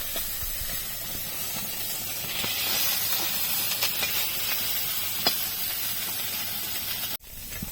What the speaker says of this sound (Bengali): মাছগুলো একটু কড়া কড়া করে ভাজবো